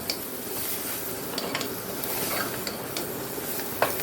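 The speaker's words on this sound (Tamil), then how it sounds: "காய் ஒரு நல்லா வதக்கி விடுங்க." Diced chayote squash stirred and sautéed in a pan for an Indian curry, with a steady low sizzle, soft scraping stirs and a few faint utensil clicks, no voice.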